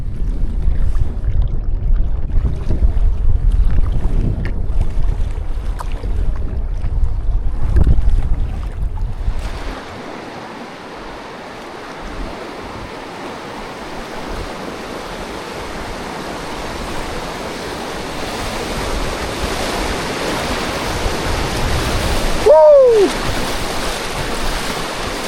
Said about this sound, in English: Paddling north into a headwind all day.